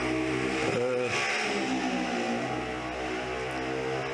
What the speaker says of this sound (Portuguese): vai passar uma moto aí bem barulhenta